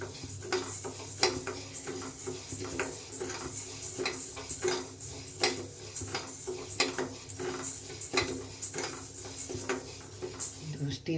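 Horse gram is dry-roasted in a steel pan, with steady rhythmic scraping and clattering stir strokes of a utensil against the metal and a light sizzle underneath, close and continuous.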